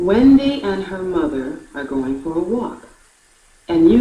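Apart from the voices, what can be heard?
No everyday noise stands out behind the speech.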